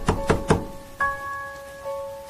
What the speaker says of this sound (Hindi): उधर दरवाजे पर धक्के की आवाज बढ़ती ही जा रही थी।